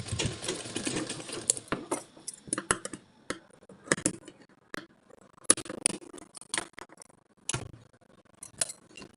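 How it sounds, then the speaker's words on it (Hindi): A home sewing machine runs a stitching line along the folded-in edge of a simple cotton blouse, in short irregular bursts of quiet mechanical whirring and ticking separated by pauses. "उसको मैं इसे अंदर करके फोल्ड कर दूंगी और इस पे सिलाई चला दूंगी"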